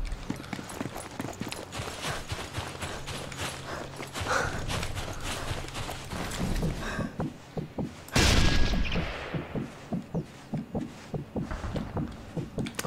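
Rapid bursts of gunfire crackle over a busy battle soundscape in Sniper Elite 3 multiplayer, with a loud heavy blast in the middle, no talking.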